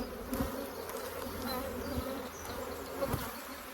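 Honeybees buzzing around an open hive during an early spring inspection, a dense, steady, close hum with a few brief thumps from handling frames.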